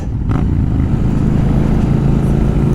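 A 59 brake horsepower car engine pulls strongly under torque on the road, giving a loud, steady, close low drone throughout with no voices.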